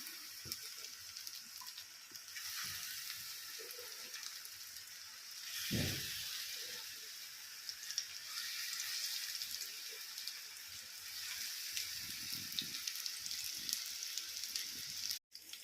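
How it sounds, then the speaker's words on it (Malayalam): Balls of sukhiyan dough sizzle and crackle steadily in hot oil in a quiet kitchen, a soft continuous hiss with a few faint bumps. "എണ്ണ ചൂടായി ഓരോ ഉരുളകളായിട്ട് നമുക്ക് എണ്ണയിലിട്ട് കൊടുക്കാം"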